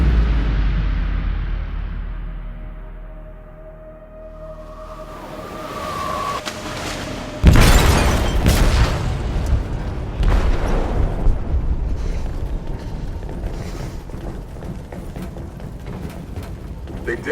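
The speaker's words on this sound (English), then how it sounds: "They detonated an explosive in the hold." An explosive detonates in a ship's hold in the video game Detroit: Become Human: a sudden loud boom bursts out of low rumble, followed by a long roaring, crashing wash of debris and water.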